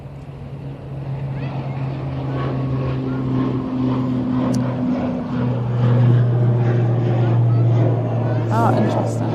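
An Aer Lingus airliner takes off at Manchester Airport, a loud steady engine roar with strong low droning tones that swell midway and hold throughout, while a person talks nearby.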